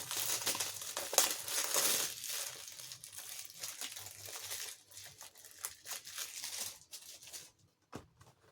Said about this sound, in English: Let's take this cellophane off so it's easy.